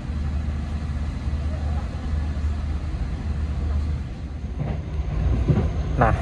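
The Argo Sindoro executive train pulls out of Pekalongan station, a steady low rumble and rolling drone of wheels and carriages that swells slightly toward the end, with brief clanks and higher squeals near the close.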